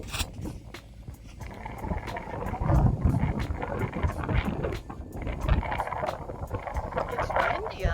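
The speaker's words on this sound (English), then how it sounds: "It's windy out here." Wind blowing outdoors during a walk, buffeting the phone microphone with loud, uneven low rumbling gusts that swell and ease throughout, with a voice mixed in.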